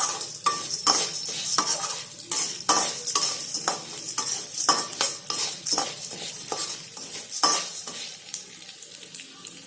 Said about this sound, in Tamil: பொன்னிறமா ஆகிற வரைக்கும் நல்லா வறுக்கணும்.